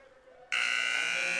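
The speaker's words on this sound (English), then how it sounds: "And the final buzzer sounds" A loud, sustained electronic final buzzer at a men's hockey game blares suddenly after a quiet moment and holds steady to the end.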